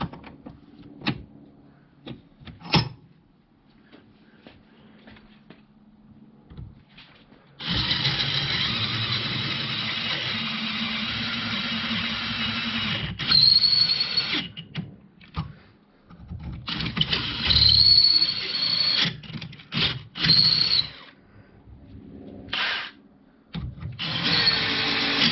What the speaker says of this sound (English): Let me get a couple holes drilled in this.